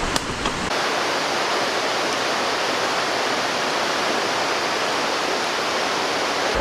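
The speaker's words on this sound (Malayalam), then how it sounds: "നോക്കിയേ, ആ നല്ല ആംബിയൻസ് കേട്ടോ. പുഴയുടെ സൈഡിൽ കാടിന് നടുക്ക് ചിന്നാറിൻ്റെ കരയിൽ അടിപൊളി." A forest river in Chinnar Wildlife Sanctuary rushes steadily, a dense, continuous roar of flowing water close by with no voices over it.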